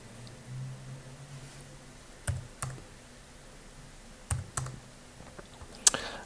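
Someone types a project name on a computer keyboard, giving a few isolated, sharp key clicks and short clusters of taps over a quiet hum, with no one talking.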